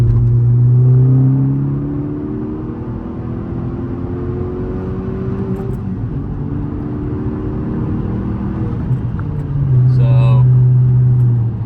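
A 10th-generation Honda Civic Si turbo engine drones steadily as the car accelerates in second gear, with louder bursts at the start and end and a hint of turbo whir, heard from inside the cabin while someone speaks.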